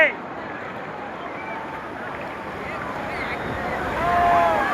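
Sea waves roll at Digha beach in a steady, close rushing wash of surf with buffeting wind noise on the microphone, swelling slightly toward the end, with voices around.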